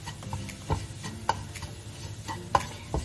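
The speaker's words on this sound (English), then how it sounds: "And then just give it a mix with a spatula." Honey being mixed into ingredients with a spatula for peanut butter balls, soft sticky stirring with a few distinct clicks and taps against the bowl, close and quiet with no voices.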